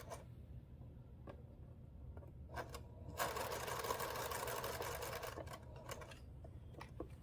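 A sewing machine stitches quilt binding with a faint low motor hum and a quick run of ticking clicks, broken by scattered single clicks before and after.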